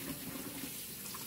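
A tap runs continuously, heating water to fill a bottle for feeding baby goats; the steady, hissing gush is fairly quiet and there is no talk.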